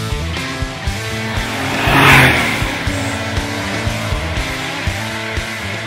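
A Porsche 911 engine revs and accelerates close by, rising to a loud swell in the middle before settling back to a steady drive with gear shifts.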